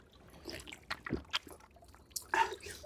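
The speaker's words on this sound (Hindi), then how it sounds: "इन जो पत्थरों से पानी निकल रहा है।" Cold natural spring water trickling out from rocks at a high mountain spot in Kashmir, with irregular splashes and dribbles as a hand is held in the flow, close and fairly faint.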